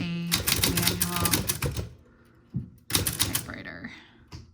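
Keys clatter on a We R Memory Keepers manual typewriter in rapid bursts of sharp clacks, pausing around two seconds before another quick run of strikes.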